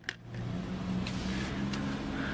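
Small toy car for a physics-class motion experiment, running with a steady, fairly loud motor whine and hum throughout, close by, with a brief click at the start.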